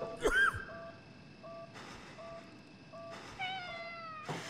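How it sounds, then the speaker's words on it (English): A black cat in the horror game Conarium gives a single sharp meow near the start, followed by eerie tonal game ambience with swelling hums and faint whistling tones and no speech. "A cat appeared, then disappeared."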